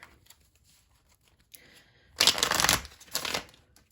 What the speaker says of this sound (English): I did shuffle these really well